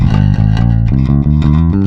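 Bass guitar played through EQ on a Zoom MS-60B+ multi-effects unit, a loud, close, continuous line of deep plucked notes with a rounded low end and clear attack on each note.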